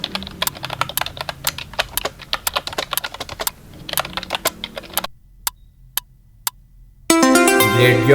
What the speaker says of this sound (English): The click clack of a typewriter is just like a woodpecker's peck.